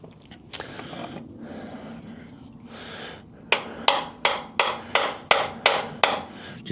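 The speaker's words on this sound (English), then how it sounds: "Just give the axle a tap" A hammer strikes the wheel axle of a Triumph Scrambler 400X about nine times in a steady rhythm, each blow a sharp metallic ping with a short ring, close and clear, after softer handling noises.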